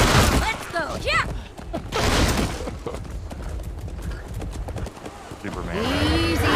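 Horse hooves gallop in the medieval combat game Chivalry, a rapid clip-clop amid clashing battle noise. Voices shout over the action.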